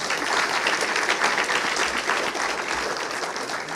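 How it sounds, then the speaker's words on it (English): Sustained applause from a conference audience for a panel at an IP awards event, a dense steady clatter of many hands filling the room throughout without voices. "Ladies and gentlemen, a huge round of applause for this beautiful panel,"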